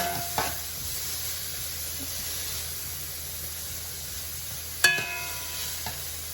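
Vegetables for a creole sauce sizzle steadily in a hot pan, a constant frying hiss broken by a couple of sharp clanks of a utensil against the pan.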